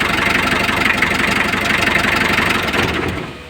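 An old-model Mitsubishi L300 engine, just started after three years of sitting and smoking heavily, runs at a loud, steady idle close by, with a slight drop in level at the very end.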